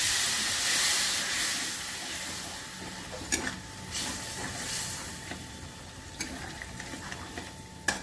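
Fried masala sizzles and steams in a pan after a little water is poured in for a home-style okra curry, a steady hiss with a few sharp stirring clicks and no talking.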